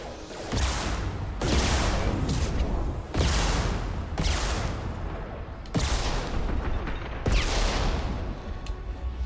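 In Mass Effect 2, six heavy rocket-launcher blasts boom one after another, loud and close, each with a rumbling tail that fades before the next hit.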